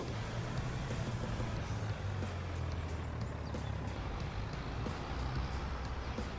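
A truck drives in the video game Farming Simulator 23 while hauling sunflower, producing a steady, low engine drone with faint mechanical clicks throughout.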